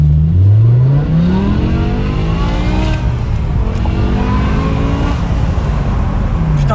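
A BMW M6 with a V10 engine launches from a standing start, revving hard and climbing through the gears with a loud, close, rising howl that dips briefly at each shift and then keeps building.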